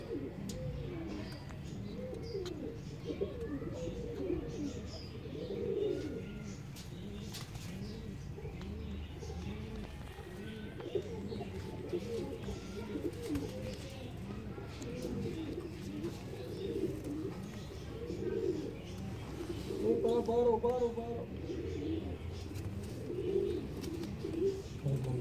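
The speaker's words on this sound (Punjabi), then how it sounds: "ਇਹ ਕਬੂਤਰ ਚੈੱਕ ਕਰੋ। ਇਹ ਕ੍ਰਾਸ ਦਾ ਅਲੀ ਵਾਲਾ," Crossbred pigeons coo continuously in low, rolling, overlapping calls close by, with a few faint chirps and background noise mixed in.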